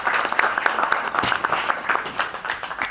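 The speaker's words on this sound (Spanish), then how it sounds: "vamos a darle un aplauso" Brief, dense applause for the incoming president at a Spanish-language academy ceremony, many hands clapping with audible individual claps, close and fairly loud.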